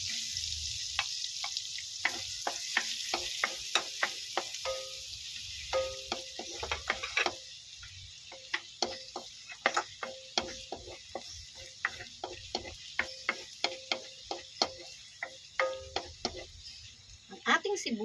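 Garlic going into melted butter in a pan, a quiet sizzle underneath repeated close clinks and scrapes of a utensil stirring, with faint water-like hiss and some speaking mixed in.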